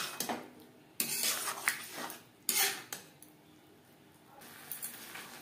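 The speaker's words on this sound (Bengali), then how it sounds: "গোবিন্দভোগ চাল, মশলা ও মটরশুঁটির সাথে আলু ও চাল বেশ ভালো করে মিক্স করে দেবো" A metal spoon scrapes and clinks in a pan while Gobindobhog rice, potatoes, peas and spices are stirred together, giving several sharp scraping strokes at close range with quiet gaps between them.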